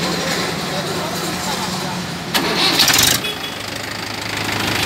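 A Mahindra 585 DI tractor with power steering runs with a steady, knocking diesel rumble, briefly louder and harsher midway, while someone talks over it.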